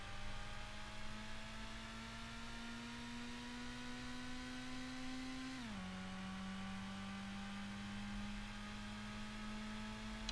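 A Honda Prelude's engine in the PlayStation game Gran Turismo holds a steady, buzzy drone that rises slowly, drops abruptly at a shift partway through, then settles and rises again, loud and unaccompanied by voices.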